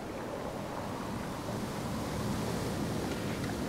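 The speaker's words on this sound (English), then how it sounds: "The waves seem to never end." Endless river waves in the video game Shelter give a steady, broad wash of rushing water and surf that holds even throughout, with no voices.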